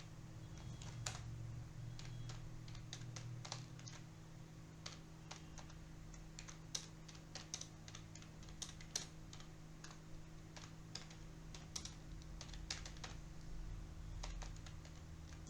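Keys clatter in quick, uneven bursts as a Python if-elif-else leap-year program is typed on a computer keyboard, with crisp close clicks over a low steady hum.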